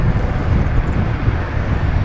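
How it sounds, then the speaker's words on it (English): Steady, loud wind roar buffets the microphone during a bike ride, a continuous low rumble with no talking. "Really windy right now."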